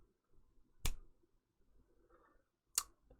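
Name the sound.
finger snap behind a cardioid condenser microphone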